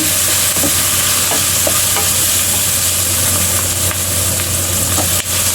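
Garlic and onion sauté in hot oil in a pan while cooking chicken with pineapple, giving a steady, close sizzle with faint stirring clicks over a constant low hum.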